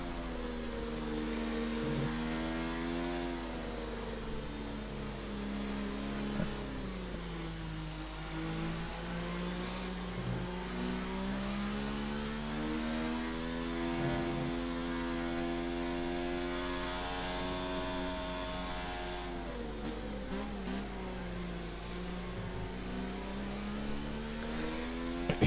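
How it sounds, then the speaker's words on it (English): A Formula 1 car on its outlap around Circuit of the Americas in a racing video game gives a continuous, faint engine whine that climbs and dips through gear changes and throttle lifts, with no talk. "We've got Max on an outlap right now, so he needs to get those tyres warmed up as he comes through Sector 1 here."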